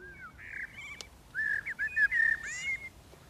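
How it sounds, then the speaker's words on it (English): A blackbird sings at dawn, a series of clear fluted whistles and short warbling phrases with brief pauses between them, fairly close against a quiet background. "It's blackbird."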